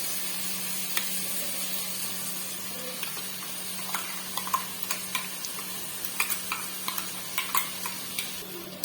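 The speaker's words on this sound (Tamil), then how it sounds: "இந்த தேங்காய் போட்ட உடனே ஒரு 2 நிமிஷம் நல்லா வதக்கி விட்டுடுங்க." Ground coconut paste for vegetable kurma is sautéed in a pan, giving a steady soft sizzle with scattered sharp clicks from a spoon stirring against the metal.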